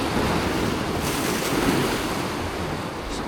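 Ocean surf breaking steadily on a windy winter day at a rockfish fishing spot, a continuous loud wash of waves with wind buffeting the microphone throughout, no voices.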